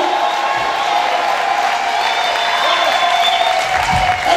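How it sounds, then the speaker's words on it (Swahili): A church congregation applauding, a dense steady wash of clapping from a crowd with faint voices mixed in, loud and continuous for a few seconds. "Piga makofi yanayoeleweka, sema haleluya."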